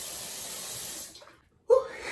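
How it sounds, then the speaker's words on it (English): Tap water running into a sink while rinsing the face with cold water, a steady close rush that cuts off briefly, then resumes with a breathy exhale. "I love rinsing my face with cold water in the morning."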